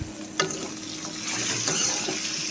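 Pork with onion and green chili stirred in a pan for an oil-free pork curry, a spoon scraping and clacking against the pan with soft sizzling, close and fairly quiet.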